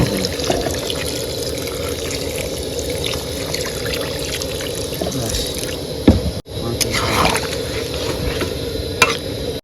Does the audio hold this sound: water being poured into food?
yes